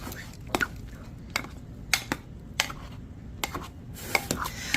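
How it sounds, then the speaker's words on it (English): Hot process lavender goat milk soap stirred in a pot, a series of sharp irregular scraping knocks of the utensil against the pot, about a dozen close, distinct hits over a quiet background. "I like to stir it until everything is opaque as possible."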